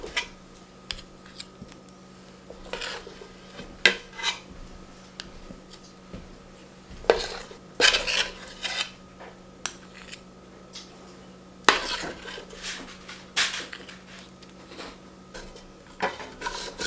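Spoon scraping and clinking against a pot while thickened buttermilk praline candy is dropped out, a scattered run of light metallic taps and rubs with pauses, no talking.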